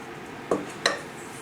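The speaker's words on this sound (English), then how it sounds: "I usually just toss it with a fork to get a fairly good mix" A fork tossing flour, baking powder, baking soda and salt in a bowl makes two quick, light clinks against the bowl over a quiet background.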